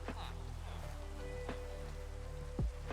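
Steady rain pattering on surfaces in the video game Minecraft, a soft continuous hiss of drops with a few brief clicks and low game tones underneath.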